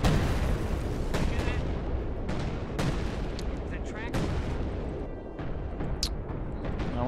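Artillery barrage from Company of Heroes 2 rumbles as a dense, continuous wash of heavy booms, with sharper blasts breaking through at intervals over several seconds, loud and close, as gunfire crackles in the mix.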